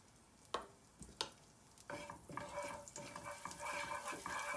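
Half a teaspoon of asafoetida drops into heated oil and begins to sizzle, after a couple of soft knocks from the utensil, a quiet, steady crackling fry close by.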